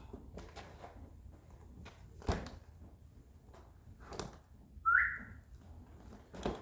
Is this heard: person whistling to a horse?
yes